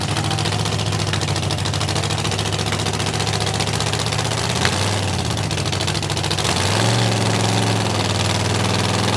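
A mud drag racing vehicle's engine running with nitrous at the Valemount mud drags gives a loud, steady, close rumbling idle that holds throughout, with a brief shift in tone partway through.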